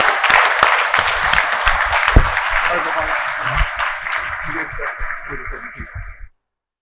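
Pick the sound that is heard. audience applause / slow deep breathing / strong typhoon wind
audience applause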